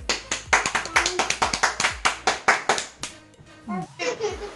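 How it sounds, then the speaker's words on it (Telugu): A group of children claps in a quick, uneven burst for about three seconds, then young voices chatter close by. "మళ్ళీ క్లాప్స్ కొట్టండి"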